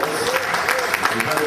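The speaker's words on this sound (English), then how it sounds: "Give him a nice round of applause." Brief, dense applause from a crowd, steady clapping throughout with voices mixed in.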